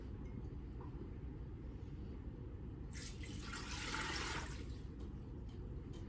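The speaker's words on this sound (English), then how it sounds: "we're going to put this 4 cups of boiling water that I have. We're going to put that down in our canner." Four cups of boiling water are poured into a Nesco canner, a brief splashing pour rising over a steady background hiss and then fading after a couple of seconds.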